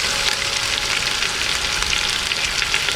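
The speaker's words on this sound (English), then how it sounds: "So it's sauteing." Oxtail sautés in a hot pan with a steady, loud, even sizzle and crackle that fills the whole moment without pause or talk.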